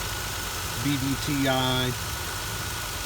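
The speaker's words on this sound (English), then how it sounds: "this is the good old 3-liter Toyota V6" A 2001 Toyota Sienna's 3-liter V6 with variable valve timing idles close by, a smooth steady low hum that continues under a brief stretch of a man's speech.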